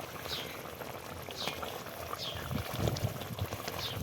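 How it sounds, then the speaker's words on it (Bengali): Fish curry bubbles away in a covered pan, a soft continuous simmer with gentle popping and gurgling bursts, quiet and close, with no talk over it. "এই দেখো মাছটা সিদ্ধ হয়েই গেছে প্রায়"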